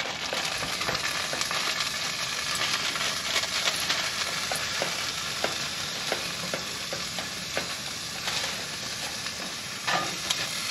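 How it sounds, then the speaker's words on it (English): Diced garlic and onions with curry powder fry in a pan on a wood stove, a steady close sizzle with scattered crackles and occasional scrapes of stirring throughout, no voices. "Then throw in diced garlic and onions."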